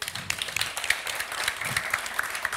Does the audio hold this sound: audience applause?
yes